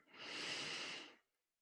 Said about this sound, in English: Sooner or later, you're going to breathe out